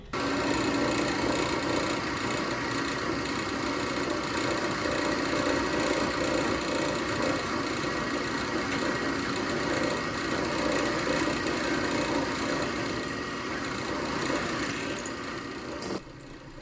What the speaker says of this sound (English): So let's go over to the drill press.